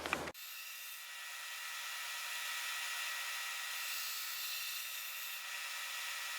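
A hand-made Damascus steel blade is hollow ground on a grinder: a steady, continuous abrasive hiss holds evenly for about six seconds after a brief start, close and fairly loud, with no talking.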